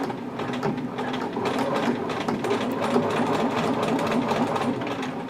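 A sewing machine runs steadily, stitching fabric in one continuous rapid mechanical whir with a fine rhythmic chatter, loud and close throughout with no pauses.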